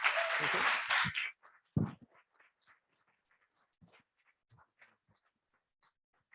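A startup event audience bursts into applause for a speaker: dense, fairly loud clapping for just over a second that quickly dies away, leaving faint scattered murmurs and small room noises.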